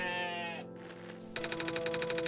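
A goat in the OneShot video game lets out bleats, first a drawn-out nasal cry, then after a short pause a rapid, stuttering bleat, clear and close in a quiet setting.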